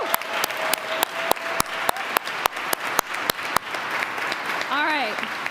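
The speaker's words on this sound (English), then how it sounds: "Everyone give them a round of applause." Applause at a Poor People's Campaign rally in Madison, Wisconsin: a crowd claps in sharp rhythmic unison, loud and close, with a cheer or whoop near the end.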